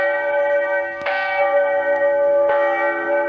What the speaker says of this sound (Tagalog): Yan ang tunog ng kampanilya o kampana.